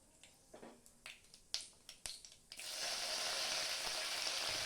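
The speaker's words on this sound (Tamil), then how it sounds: "இப்போ கருவேப்பிலை நல்லா பொரிஞ்சிடுச்சு" Curry leaves and spices drop into hot oil with a scatter of sharp pops and crackles, then a loud, steady sizzle takes over and holds, close and bright, with no talking.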